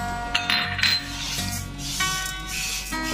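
A spoon stirs sugar into a thick batter of mashed banana and rice flour for sweet bol pithe, scraping and rubbing against the bowl with a few light clinks, close and continuous, with no talking.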